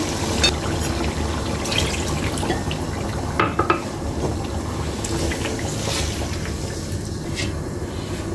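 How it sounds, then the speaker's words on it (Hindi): Water pours into a pot of Degi-style chicken korma. A steady, splashy rush of liquid continues throughout, with a few light clinks and splatters on top. "इसी के अंदर हम पानी डाल देंगे।"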